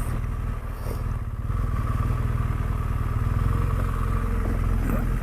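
A touring motorcycle rolls slowly over loose pebbly ground in Portugal, the engine chugging in a close, steady low pulse with light gravel clatter beneath.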